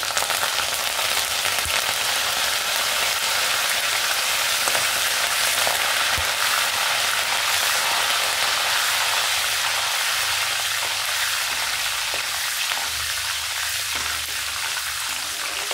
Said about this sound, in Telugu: కడిగి పెట్టుకున్న కరివేపాకు వేసేస్తున్నామండి